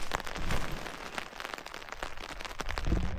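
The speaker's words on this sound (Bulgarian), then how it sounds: "вече дъжда малко почна да усилва" Dense rain patter on a surface, a broad hiss with scattered drops and occasional louder spatters, fairly quiet and continuous.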